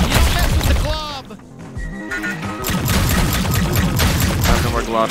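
Rapid bursts of glob shot weapon fire in the video game High On Life, loud splattering blasts and crashes layered with game effects and a voice talking over the action.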